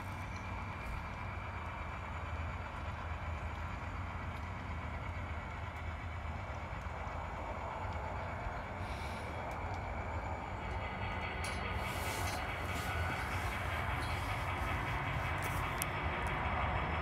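Western Maryland GP40 model locomotive with ESU LokSound, pushing six cars into a passing siding, makes a steady low diesel drone with faint hiss and no talking.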